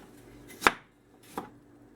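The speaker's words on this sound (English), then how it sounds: "Now you're actually chopping the apples up." Two crisp chef's knife chops through apples on a cutting board while making apple pie, a sharp near thunk followed by a softer second cut less than a second later.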